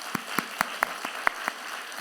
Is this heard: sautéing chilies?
no